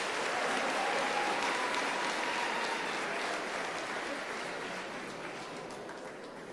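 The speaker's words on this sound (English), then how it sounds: "A big round of applause." A crowd at a matric class awards ceremony in South Africa breaks into dense, continuous applause that starts strong and gradually tapers off.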